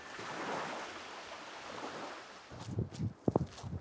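Sea surf washing onto a beach on a first trip to the seaside, a steady soft roar of waves with wind noise, followed by a few closer splashes and bumps near the end.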